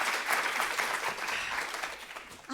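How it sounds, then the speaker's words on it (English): An audience applauds, dense continuous clapping from many hands at moderate loudness, tapering slightly toward the end before a final short burst. "Round of applause."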